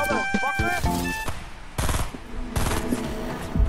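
Gunfire in a video game, ending in a headshot: rapid, loud bursts of shots with sharp cracks come in quick clusters, with voices talking between them.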